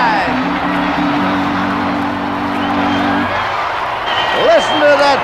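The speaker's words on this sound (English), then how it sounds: "Listen to that crowd roar as the score is tied on a 3-run homer by Joe Christopher." A ballpark crowd roars steadily after a three-run homer by Joe Christopher ties a Mets-Giants game, with a dense, continuous wash of noise under a commentator's voice.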